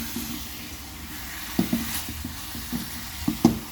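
Chilli powder and ginger frying in a pan for chicken liver fry, a soft steady sizzle with a few sharper clinks and stirring scrapes near the end, close and moderately quiet.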